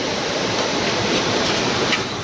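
A forest waterfall at Chorgalli roars as a broad, constant wash of rushing water, loud and close, with no voices over it.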